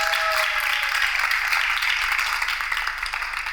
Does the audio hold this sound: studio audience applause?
yes